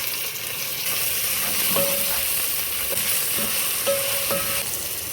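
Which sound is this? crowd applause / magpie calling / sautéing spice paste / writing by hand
sautéing spice paste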